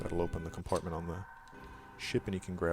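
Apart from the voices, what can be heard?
No everyday noises stand out.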